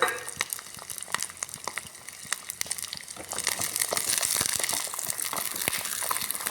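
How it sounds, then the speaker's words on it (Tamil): Garlic fries in hot oil for a curry leaf and garlic thokku, a steady busy sizzle with small crackles and occasional stirring scrapes, growing a little louder and denser partway through. "இப்போ பூண்டை வந்து நல்லா அந்த எண்ணெயில் வந்து வறுத்து எடுத்துக்கலாம்"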